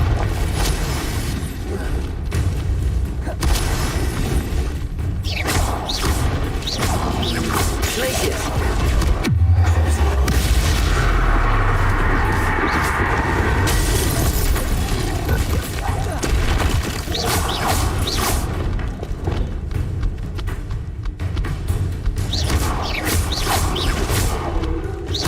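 Repeated Confringo fire-spell explosions in Hogwarts Legacy on Nintendo Switch form a dense, loud, continuous battle din of booms, crashes and rattling impacts. A voice speaks intermittently underneath.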